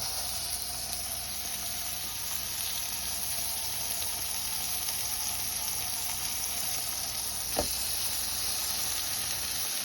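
Patties sizzle steadily in a buttered frying pan on a home stove, a constant close hiss running evenly throughout with one brief faint click near the end.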